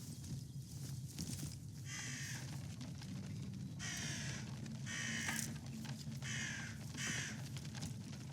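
A bird caws in short harsh bursts as an alarm in the video game Atomfall, five or six loud calls in an irregular run over steady ambient game noise, with no talk.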